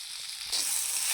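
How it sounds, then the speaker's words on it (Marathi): Onion frying in oil for a paya soup, a faint hiss that jumps to a brighter, fuller sizzle halfway through the short stretch, close and steady with no voices. "कांदा चांगला लालसर भाजून घ्यायचा"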